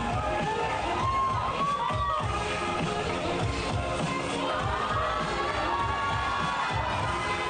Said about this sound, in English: Juggler Aiden Oldenburg had the crowd cheering like crazy.